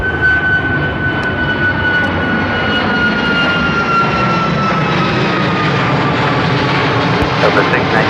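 Alaska Airlines jet on its takeoff roll at Seattle-Tacoma airport, a loud, steady engine roar with a rising whine that fills the whole stretch and never lets up.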